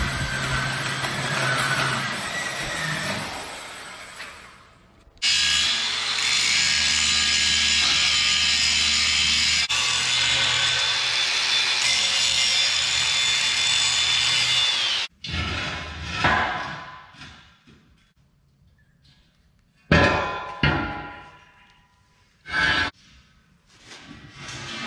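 A power tool cuts through steel angle iron for a rack, with a loud, harsh, continuous grinding roar held for about ten seconds, then shorter, choppy bursts of cutting with pauses between.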